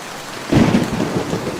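Thunder rumbles in over steady rain falling on a surface, the roll swelling loud after a quiet opening and then easing into continuous rainfall.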